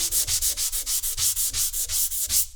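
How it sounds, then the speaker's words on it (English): Brisk, rhythmic sanding strokes rasp back and forth over drywall joint compound edges, about a dozen quick passes in a steady scratching rhythm, close by with no talking. "when you're sanding these edges, you want to sand them nice and smooth"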